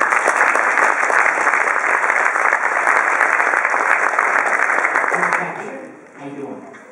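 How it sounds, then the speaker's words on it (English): An audience at a real estate seminar claps for several seconds in a steady, dense burst of applause that tapers off near the end, with a voice briefly heard as it fades. "Round of applause for her."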